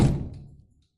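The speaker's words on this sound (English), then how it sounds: "He left with a slam." A house door slamming shut as someone leaves, a single heavy close thud that rings briefly and fades into silence.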